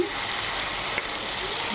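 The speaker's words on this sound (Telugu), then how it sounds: "చూడండి, ఆనియన్స్ ఉల్లగడ్డలు బాగా వేయించుకుంటున్నాను." Sliced onions fry in oil in a pan, heading toward golden brown, giving off a constant close sizzle and hiss with one small click midway.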